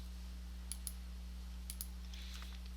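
Mouse clicks posting a final bill in billing software: a few faint, sharp clicks in pairs against a steady low electrical hum, with no talk.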